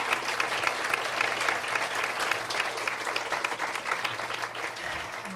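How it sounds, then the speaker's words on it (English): A graduation audience gives a sustained round of applause for the parents, dense steady clapping from many hands filling the hall throughout, with no speech over it. "We can clap for the parents."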